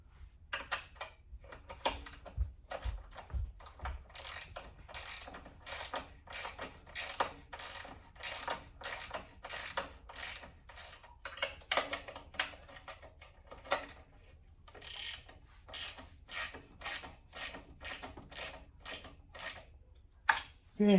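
Ratchet wrench tightening a hose clamp on a 1972 VW Super Beetle engine, a long run of rapid, close clicking strokes in bursts with brief pauses, no talk.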